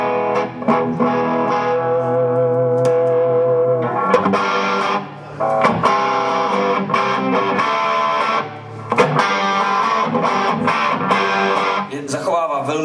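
An electric guitar played through a Fulltone OCD overdrive pedal, with crunchy, distorted chords and sustained notes. Phrases are separated by a couple of short pauses, and the tone is strong and up front.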